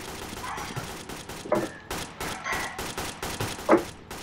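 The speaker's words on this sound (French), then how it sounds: "ça tire de partout là" Gunfire in a French-speaking multiplayer shooter match, bursts of shots scattered across the clip with a sharper, louder report near the end, mixed with faint talk and game ambience.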